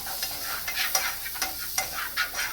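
Onions sauteing in butter with black beans, stirred steadily so a soft sizzle runs under repeated scraping strokes throughout, with no talking.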